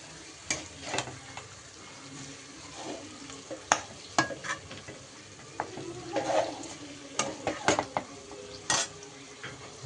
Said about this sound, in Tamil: நல்ல சிக்கனை பார்த்திங்கன்னா நல்லா பரட்டி விட்டு ஸ்லோவில் இருக்கட்டும் கொஞ்சம் நேரம்